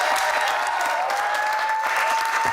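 A studio audience gives steady, dense applause that stays constant and loud throughout, with a faint tone running underneath.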